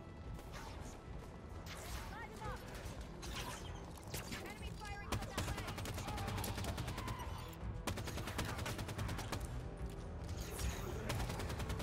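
Hydra weapon fire in the video game Halo 5: Guardians, a dense run of rapid sharp shots and mechanical clatter layered over loud game music and effects, with a voice talking underneath.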